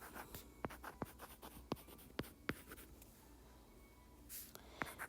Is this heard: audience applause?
no